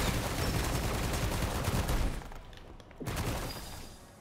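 Scatter shot magic gunfire in the game Forspoken, a dense rapid volley of crackling blasts that drops off, then one sharp burst followed by another short flurry fading out.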